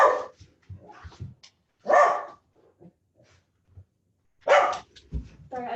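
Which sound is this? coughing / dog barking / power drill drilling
dog barking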